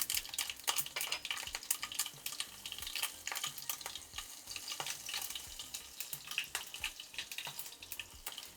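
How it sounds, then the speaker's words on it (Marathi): Cumin and mustard seeds crackle in hot ghee for a Marathi moong dal kadhan, sharp pops and spits scattered over a steady sizzle, close and fairly quiet, with no talking. "तूप जरा तापलंय, आता जिरं घालते थोडं आणि थोडी मोहरी घालते"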